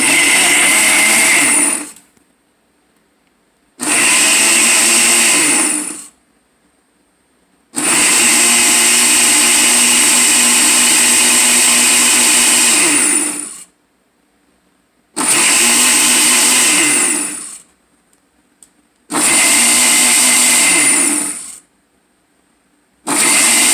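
A Ninja BL480D personal countertop blender blends an almond milk smoothie with maca and MCT oil, running in five loud bursts of a few seconds each, separated by short pauses of silence.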